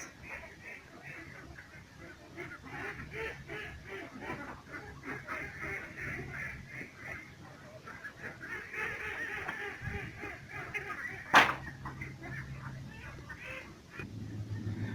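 Ducks call around a pond farm where ducks and catfish are raised together, scattered quacks and honks rising and falling at moderate distance over outdoor background noise, with a sharp click near the end.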